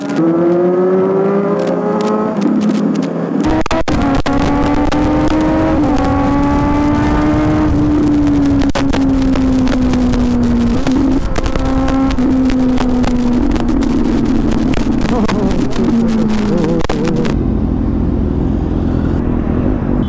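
Superbikes on a Sunday group ride in Bangalore roar loud and close, engines revving and rising and falling in pitch continuously under heavy wind rush.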